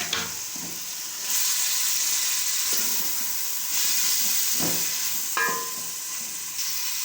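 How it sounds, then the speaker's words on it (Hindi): Continuous hissing sizzle of small-cut meat frying in a pan, swelling and easing as it is stirred, with a few utensil clinks. "अभी ये वाइट होने तक इसको हम भूनेंगे।"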